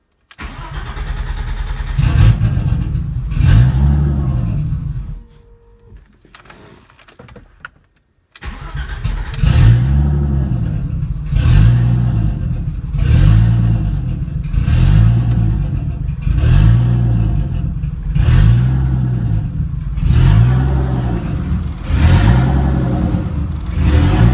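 A 1988 BMW E30 325iX with a turbo install and redone head gasket cranks and fires, then revs in a steady, pulsing cycle, loud and close. It drops out briefly midway before restarting and rhythmically revving again.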